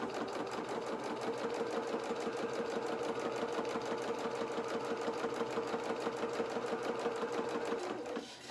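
Sewing machine running gathering stitches on a doll's dress, a steady fast whirring hum that holds for about eight seconds before stopping, close and loud with no talking.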